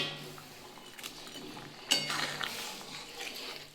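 Pointed gourd and fish roe go into a pot of boiling potato broth: a faint kitchen clatter and light clinks, then a sharper clink and a soft splash-like rush partway through, all quiet and close.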